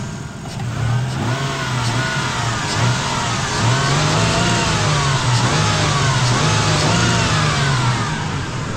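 A 2004 Toyota Tacoma pickup engine runs close by after a timing belt job, its pitch rising and falling gently as it idles and revs lightly, steady and loud throughout.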